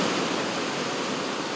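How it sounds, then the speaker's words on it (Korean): A waterfall roars as a dense, steady broadband wash of rushing water that sounds like heavy rainfall, loud and unbroken from start to finish. "이 폭포 소리가 비 오는 것처럼 들리기도 하면서 비는 안 오는데 비 오는 소리가 들렸는데 그게 저 폭포 소리더라고요."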